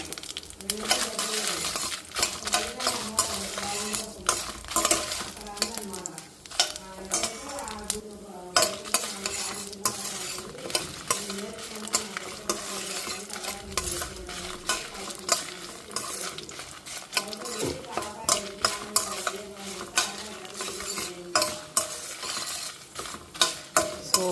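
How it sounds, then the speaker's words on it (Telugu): Dried red chillies frying in hot oil, a continuous crackling sizzle broken by frequent stirring clatter from a utensil against the pan, close and fairly steady throughout. "ఎండుమిరపకాయలు వేసి వేయించుకోవాలి"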